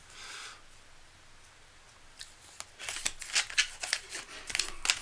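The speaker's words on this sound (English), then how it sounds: "I'm finding it extremely hard to shuffle and make things very precise." A tarot deck being shuffled, a run of quick papery riffles and flicks that grows busier and louder toward the end, close up with no talk.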